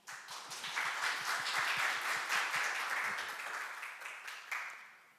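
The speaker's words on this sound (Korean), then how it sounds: "여러분 박수 부탁드립니다" Audience applause at a corporate technology event as a presenter is welcomed to the stage: a crowd claps steadily for about five seconds, fairly soft and a little distant, with individual claps audible before it fades.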